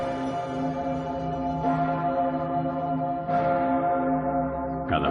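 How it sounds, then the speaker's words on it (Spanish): Pummerin, Austria's largest church bell, rings in Vienna with a deep sustained tone, its hum swelling with fresh strikes about every one and a half seconds. "la Pummerin, la mayor campana de Austria, recuerda el sitio de Viena"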